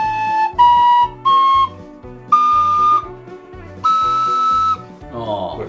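A handmade recorder-style wooden flute sounds a series of sustained whistling notes, stepping upward in pitch with short breaks between them. Each note is clear and close, and a brief low voice enters at the end.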